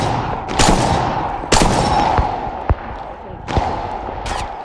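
Gunshots in a battle royale shooter game, a few sharp separate cracks spaced irregularly over a steady background hum.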